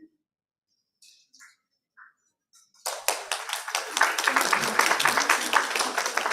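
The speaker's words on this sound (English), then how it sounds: "I assume that last clap is to say that I guess time is up" After a few faint scattered claps, a conference audience breaks into sustained applause at the end of a talk, steady and fairly close, filling the room for several seconds.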